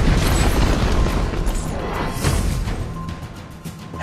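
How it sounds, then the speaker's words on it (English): A deep booming explosion in the video game Arena of Valor as a tower is destroyed, a loud rumbling blast that slowly fades over a few seconds. "Your team has destroyed a tower."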